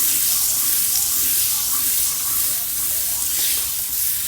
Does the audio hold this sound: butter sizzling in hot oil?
yes